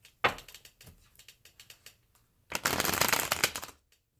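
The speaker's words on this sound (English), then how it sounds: "So we'll do a few more shuffles" A deck of tarot cards is shuffled by hand, close and crisp: a few light riffling flicks followed by one longer, dense riffle near the end, with no talking.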